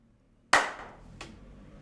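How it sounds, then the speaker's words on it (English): A single sharp hand clap rings out loud and close, followed a moment later by a fainter second clap, with quiet room tone between and after. "Give us a big clap and we'll start again."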